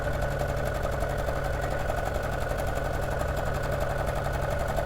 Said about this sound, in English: so I'm just going to do my normal 1/4 inch seam